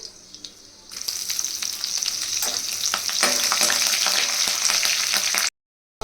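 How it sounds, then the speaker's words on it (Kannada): Red chillies tossed into hot oil for an oyster mushroom masala, a close, steady crackling sizzle that swells after a quiet start and grows denser, then cuts off abruptly near the end; no voices. "ಸ್ವಲ್ಪ ಫ್ರೈ ಆದಮೇಲೆ ನೆಕ್ಸ್ಟು ರೆಡ್ ಚಿಲ್ಲಿನ ನಾನು ಹಾಕ್ತಾ ಇದ್ದೀನಿ."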